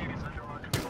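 Single pistol gunshot in a first-person shooter game, a short sharp crack near the end of a brief moment of game noise and a speaking voice.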